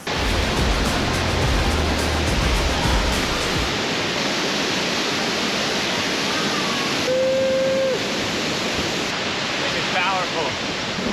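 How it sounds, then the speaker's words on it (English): A cave waterfall on Iceland's south coast roars as a loud, unbroken wash of falling water close by, with rain in the air and no talk heard over it. "He is in that cave waterfall right now."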